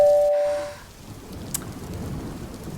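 A doorbell tone fades at the start, then steady rain pours with a low thunder rumble beneath it in a drama scene.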